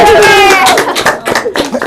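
A short burst of clapping from students at an online school event comes first, then speech and a little laughter take over.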